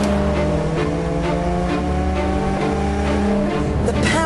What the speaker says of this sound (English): The ear-pleasing growl as you floor it still remains the same